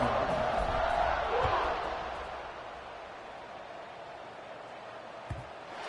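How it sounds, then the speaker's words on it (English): Stadium crowd in the College Football 25 video game, a broad roaring buzz that swells early then settles into a steady murmur, with a dull thud near the end. "this crowd is buzzing after that last score"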